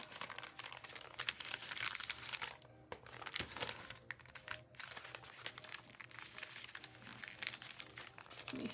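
Paper being folded and creased for a handmade junk journal, a steady close crinkling and rustling that runs almost continuously with brief pauses, loud and near with no talk over it.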